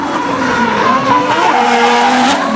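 A drift car spinning out during qualifying at a D1NZ Drifting Championship round in Tauranga, with loud, continuous tire squeal and a wavering engine note sustained throughout, close and without any talking.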